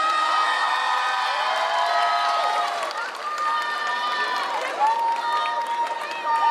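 An audience at a K-pop dance contest cheers and claps, with many high-pitched shrieks and whoops over dense applause, loud and continuous with a slight dip midway.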